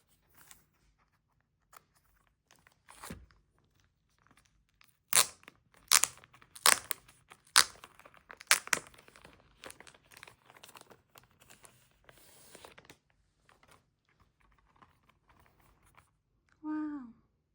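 Plastic shrink wrap being crinkled and peeled off Japanese music albums during an unboxing, heard as close, irregular bursts of crackling and tearing with quiet pauses, ending in a brief vocal sound.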